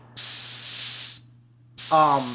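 Two bursts of airbrush spray hissing steadily, the second joined by a faint tonal whine, with a brief quiet pause between them.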